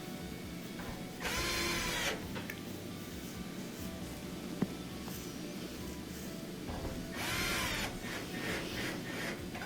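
Screws driven to mount the heating element in a Whirlpool electric dryer: two short whirring bursts from a power driver, about a second each and several seconds apart, faint against a quiet background, with one sharp tick between them.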